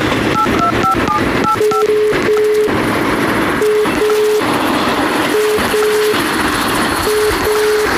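A telephone rings on unanswered in a Tamil radio drama, with short repeating tone bursts in an even rhythm over a constant noisy background.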